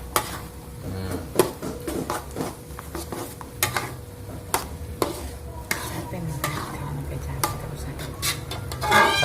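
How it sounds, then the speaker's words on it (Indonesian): A spoon stirs a sizzling mixture of sliced Javanese palm sugar in a wok while making simple cilok, with repeated scraping clinks against the metal over a continuous frying hiss. "Campur nek nggone wajan."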